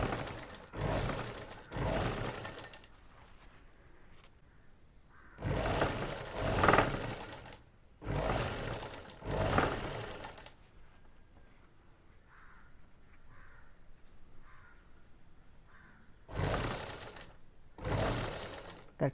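A sewing machine stitches men's shorts in repeated loud runs of rapid mechanical whirring, separated by quiet pauses and a stretch of softer, slower stitch bursts.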